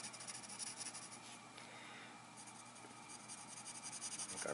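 Pencil shading on paper while drawing a monster, a faint soft continuous scratchy rubbing of graphite strokes up close, with no talking.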